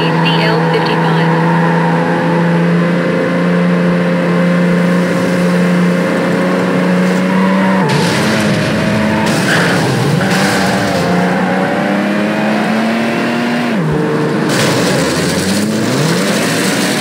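A red Mercedes CL55 engine roars at high speed in the Need for Speed Hot Pursuit 2 racing game, holding a loud steady drone before two sharp pitch drops at shift points, with faint voices beneath.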